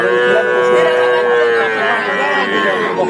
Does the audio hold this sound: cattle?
yes